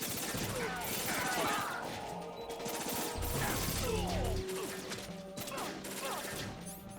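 Rapid M4 rifle fire in Metal Gear Solid 2, loud bursts cracking over dense game action and clatter, with a voice talking intermittently beneath the shooting.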